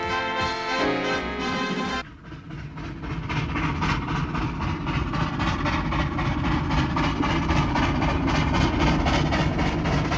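Steam locomotive 3801 hauling the Newcastle Flyer between Sydney and Newcastle, a tonal sound cutting off into a loud, steady rumble of the passing train with rhythmic rail clatter.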